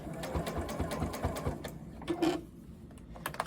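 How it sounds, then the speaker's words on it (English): A sewing machine stitches the binding onto a quilt, its needle pounding in a fast steady rhythm up close before slowing and stopping, followed by a few soft handling clicks. "line it up with this edge, and start sewing"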